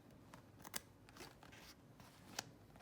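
Scissors cut through fabric stabilizer beside the triple-stitched zipper of a two-zipper top-zip purse, giving soft, irregular snips with a few sharper clicks, faint and close with no talk.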